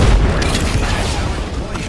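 A grenade goes off in the Apex Legends shooter game, a loud, heavy boom with a deep rumbling tail that fades over about two seconds.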